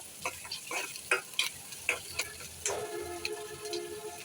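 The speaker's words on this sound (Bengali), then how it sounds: "পেঁয়াজ আর রসুন একটু তেলে ভেজে নেব।" Onion and garlic frying in oil in a pan give a soft, steady sizzle. Irregular scraping stir strokes sit over it, fairly quiet and close, with no voices.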